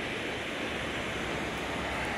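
Midim River rushing beneath a newly built suspension bridge in Nepal, a steady broadband roar of flowing water, continuous and fairly loud with no pauses or voices.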